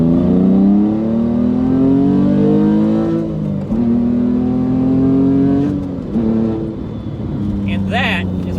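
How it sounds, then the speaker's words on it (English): A 2005 Porsche Boxster with a 4.3L R43 engine accelerating under load during break-in, its engine note climbing steadily in pitch across several gear pulls, loud and close, with brief dips between shifts. "typically right here, I start to put some load on the engine to help break the rings in."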